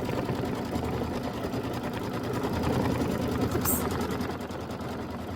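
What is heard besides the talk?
embroidery sewing machine stitching a placement line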